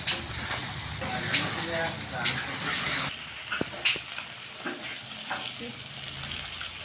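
Fish with chili powder, salt and masala frying in a pan, a steady hiss with brief scraping stirs and clinks; a voice talks over the sizzle in the first half.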